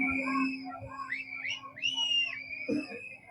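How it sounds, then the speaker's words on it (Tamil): Whistles rise and sweep from the crowd at a TVK political rally in Tamil Nadu, shrill and overlapping, over a low steady hum and faint crowd noise. "வேணான்னா ஒரு விசில் போடுங்க."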